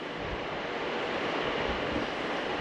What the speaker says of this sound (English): We're gonna turn on the fan itself, all right?